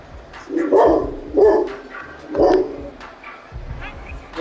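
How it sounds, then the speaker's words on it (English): A big Rottweiler named Rocket barks several times in loud, spaced bursts, with a background hum from a Madden football video game running at home. "That's my dog, Rocket."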